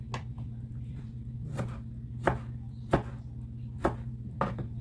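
A knife chops tomatoes on a cutting board at home in about seven sharp, evenly spaced cuts over a low steady hum, with no talking.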